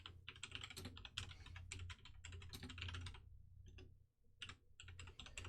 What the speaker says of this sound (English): Bear with me, I am typing it in.